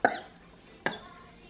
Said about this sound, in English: That's the kind of cough he's having.